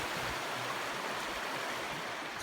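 River water flowing over a woodland river crossing, a soft, even, continuous burble heard faintly and alone throughout.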